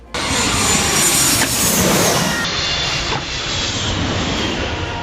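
A low-flying airplane roars loudly and steadily on its approach over the St. Martin airport entry, a dense, continuous rumble that holds strong for several seconds with no talking.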